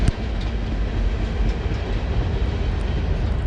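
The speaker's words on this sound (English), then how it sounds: "Oh, you got the train going by here." Train rolling past near a foreign wars memorial wall, a steady rumbling clatter of wheels on rails holding at moderate loudness throughout.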